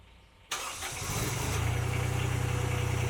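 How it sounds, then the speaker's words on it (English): A Baumalight mini skid steer's engine cranks briefly, catches with an abrupt start, then settles into a steady, close, rhythmic idle that grows slightly louder and holds. "it will automatically crank and start."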